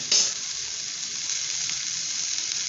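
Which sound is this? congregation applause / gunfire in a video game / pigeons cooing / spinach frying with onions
spinach frying with onions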